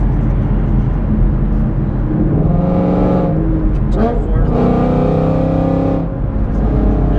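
Steady low engine drone heard from inside a Ford Mustang S550 with a Corsa catback exhaust, cruising in fifth gear with the windows up; the hum stays constant and fairly loud, with a voice talking over it.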